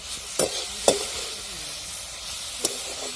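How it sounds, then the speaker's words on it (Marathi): Amaranth leaf bhaji being stirred and sautéed with spices in a pan, a soft continuous sizzle broken by three sharp scraping clicks of a spoon against the pan. "सगळा मसाला टाकून दिल्यानंतर एक दोन मिनिट अशी परतून घ्यायची आपल्याला बरं का"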